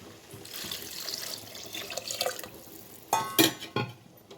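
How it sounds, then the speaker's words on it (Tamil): Remaining water being poured into a pressure cooker holding vegetable biryani, a steady running splash with a brighter glassy trickle and clinks near the end, close by with no talk. "இப்போ நம்ம மீதி இருக்கிற தண்ணியை சேர்த்துக்கலாம்."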